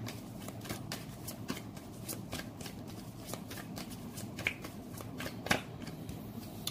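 Tarot cards are shuffled close by in quiet, rapid riffling, with soft papery flicks and occasional sharper snaps over a low background.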